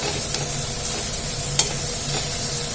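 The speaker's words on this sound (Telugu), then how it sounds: "ఈ టమాటా ఉల్లిపాయ అన్నీ అయితే మంచిగా ఫ్రై అయ్యేంత వరకు అయితే వేసుకొని" Chopped tomato and onion fry in oil in a pan for street-style pav bhaji, a steady close sizzle with a few sharp spatula scrapes and stirs across the bed of crackling.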